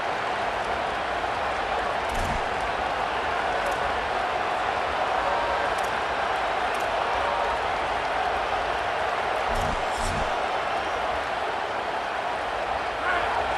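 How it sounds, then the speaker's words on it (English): A loud stadium crowd roars continuously in a college football video game, a steady full-throated wash of noise with a few brief thumps breaking through. "This crowd, full throat, spreading the eardrums and letting them know it's going to be a long day."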